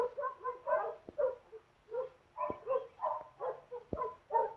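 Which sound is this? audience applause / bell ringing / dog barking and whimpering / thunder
dog barking and whimpering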